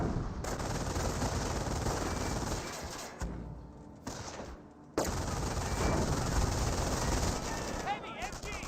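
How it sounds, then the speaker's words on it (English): Heavy MG42 machine gun fire in a Company of Heroes battle, sustained rattling bursts mixed with other gunfire and explosions, a brief lull midway before the firing resumes loud and dense. "heavy MG."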